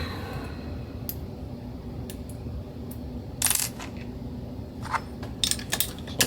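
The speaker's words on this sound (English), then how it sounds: "It is knocking our old primer out." Spent primers being knocked out of brass cartridge cases in a bump sizing die while handloading; several sharp metallic clicks and ticks are scattered over a steady low hum, with the loudest burst near the middle.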